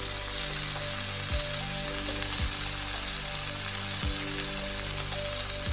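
Washed amaranth leaves land in a hot frying pan for leafy-greens dal and sizzle loudly and steadily up close, with a few soft knocks from the pan.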